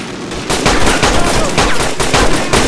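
Rapid automatic gunfire from a war film with plastic toy soldiers, loud and dense bursts of shots crowding together over about two seconds, with no clear talk.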